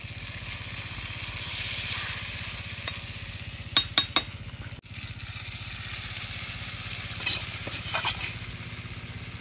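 Sizzling tempering stirred into a pot of vegetarian bhog khichuri, a close, steady frying hiss with a low hum beneath, sharp utensil clanks around the middle, and scraping stirs later on.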